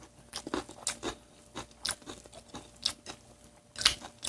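Close, crisp chewing and crunching bites of tuna bibimbap made with glutinous rice, garlic chives and garlic come in irregular bursts with quiet pauses between them.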